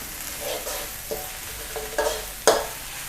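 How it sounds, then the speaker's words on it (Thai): Chili and garlic stir-fry in a pan over medium-low heat with a steady sizzle, broken by a few sharp scrapes and clacks of the spatula. "ผัดพริกกระเทียม แล้วก็ผัดให้พริกสุก"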